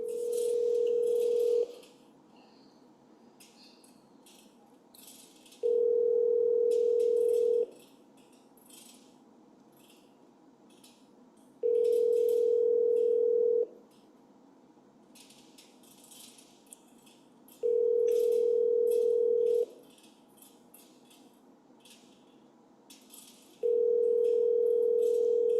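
A telephone ringback tone while calling an agent, five long steady beeps spaced evenly about six seconds apart, clear and close over faint background clatter.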